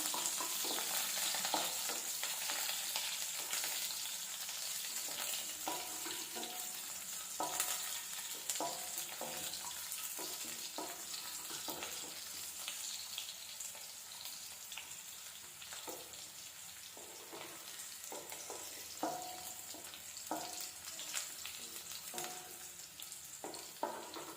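Small chopped onions saute in a pan for mudakathan keerai rasam, a soft, continuous sizzle with occasional stirring scrapes and light pops, heard close but fairly quiet.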